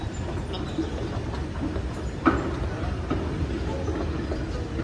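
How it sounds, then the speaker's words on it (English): A metro rail train at a station, heard as a low rumbling hum with faint clicks and a sharper metallic knock midway, steady and moderately distant throughout. "Here is the train station."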